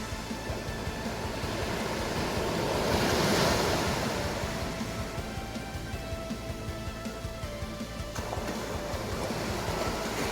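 Ocean waves break on a shore in a continuous roar of surf, swelling louder near the middle before settling back, with some wind noise across the microphone and no voices.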